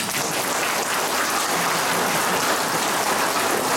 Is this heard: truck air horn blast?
no